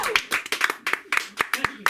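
Comedy club audience clapping for an 81-year-old comedian, a sparse scattering of individual claps in uneven rhythm, close and fairly loud, with no talking over it.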